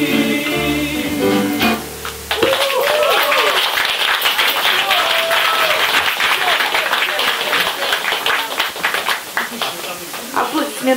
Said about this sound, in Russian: Аплодисменты Андрей Бочков.